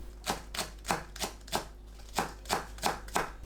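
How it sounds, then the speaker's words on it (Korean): A knife chops green onions into small pieces on a cutting board while tangerine kimchi salad is prepared. About ten crisp, evenly spaced taps fall in a steady rhythm, close and clear, with no talking. "파를 작게 썰어주세요"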